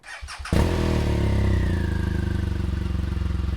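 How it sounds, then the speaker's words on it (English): A BMW GS motorcycle engine cranks briefly, then catches and settles into a steady, loud, throbbing idle. "Here's the sound of the GS being started up."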